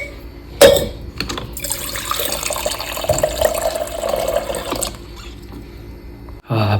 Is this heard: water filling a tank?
yes